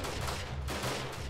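Dense gunfire bursts and explosions from grenades in the video game Modern Warfare, a loud, continuous barrage of rapid shots with heavy low booms across a short battle moment.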